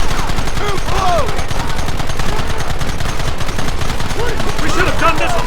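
Rapid bursts of gunfire in the video game Red Dead Redemption, loud, dense and continuous, with shouting voices over the shooting.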